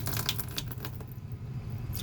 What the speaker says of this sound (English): There you go, water flowing out of there.